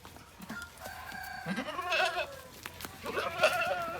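Boer cross goats bleat on a farm, several wavering calls near and moderately loud, with other farm birds such as chickens mixed in the background.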